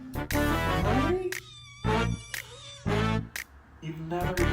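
A pet cat meows several times in short, clear, close-up cries with pauses between them, while a person talks affectionately to it in between.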